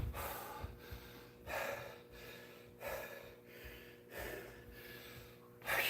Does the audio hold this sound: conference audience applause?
no